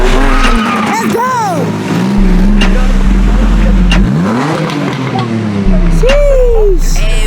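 Cars drift nearby, engines revving hard with rising and falling pitch, tires squealing, while people shout and cheer over the loud noise.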